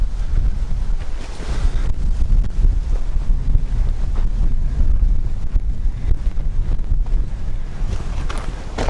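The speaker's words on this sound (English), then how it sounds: "The wind has really picked up." Strong wind blowing outdoors in Zion National Park near a dry canyon alcove, a loud, continuous roar buffeting the microphone with no voices.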